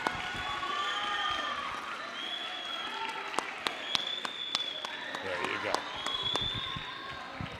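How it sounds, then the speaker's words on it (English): A middle school assembly audience applauds a student award winner in a gym-like hall, with a continuous spread of clapping, a few sharp louder claps or thumps, and crowd noise with some voices mixed in. "So everybody give a round of applause to Angelo Sanchez."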